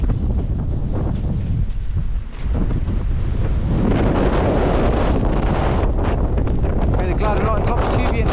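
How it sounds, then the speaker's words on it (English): Strong storm winds gust through a snowy valley bottom near the Cheviot, roaring continuously and buffeting the microphone with loud, rumbling turbulence that rises and falls. "Even in the valley bottom here, it's hard to stand up with some of these gusts."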